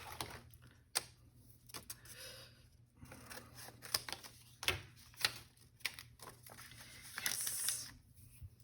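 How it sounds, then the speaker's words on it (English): Paper being trimmed for a handmade prayer journal: a few quiet, close snips and crisp clicks spaced irregularly over faint room hiss, with a brief rustle near the end. "And we're going to trim it there."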